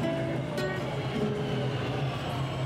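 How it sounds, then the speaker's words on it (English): A subway train rumbles into an underground station with a steady low roar and faint wheel noise, loud and continuous throughout. "Oh, this is our train! Let's get on."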